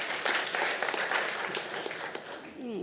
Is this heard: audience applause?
yes